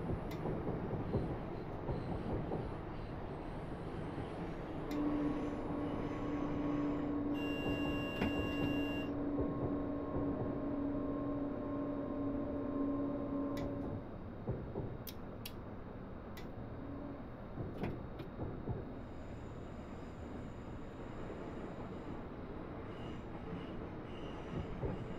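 A BR 442 Talent regional train on the Werdenfelsbahn toward Munich, in a train simulator, pulls into its final station: a steady rolling rumble with a long tonal whine from the drive, a few sharp clicks, then quieter running.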